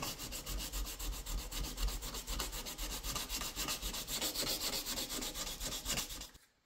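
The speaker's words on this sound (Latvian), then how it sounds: "Esam saslīpējuši šo vietu ar 120 smilšpapīru" Hand sanding of car paint with 120-grit sandpaper while blending a spot repair, a steady continuous rubbing scrape that keeps up close and loud for several seconds, then stops abruptly.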